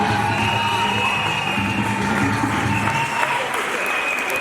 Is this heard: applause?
yes